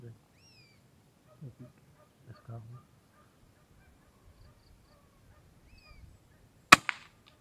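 A heron or egret gives a few faint, hoarse honking croaks outdoors, followed near the end by one sharp, loud crack of a PCP air rifle shot and a brief echo.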